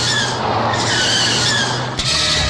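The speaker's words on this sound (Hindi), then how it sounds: "चोर चोर उधर देखो, गाड़ी लेके भाग रहा है" A car tears away in a Hindi-dubbed action film chase scene, its engine roaring and tires squealing in a loud, continuous rush with a brief thud near the end.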